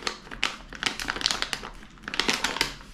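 Plastic packaging crinkles and rustles in close, busy bursts while a Magic Tree novelty product is unboxed, with no voices over the handling.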